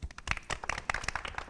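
A small group claps briefly and faintly, with a few scattered, uneven hand claps.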